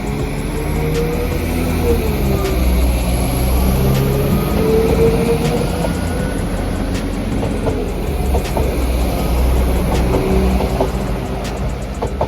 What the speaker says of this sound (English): let's see what train action there is at Todmorden